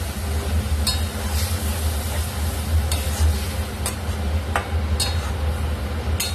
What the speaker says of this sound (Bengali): এভাবে নাড়তে নাড়তে যখন জলটা একদম শুকিয়ে যাবে তখন নামিয়ে ফেলবো।